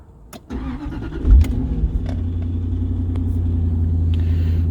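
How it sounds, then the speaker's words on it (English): A Jaguar XKR cranks briefly and fires up, its engine catching with a loud rumble and then settling into a steady, close idle, preceded by a few clicks and no talking. "So if we start the car"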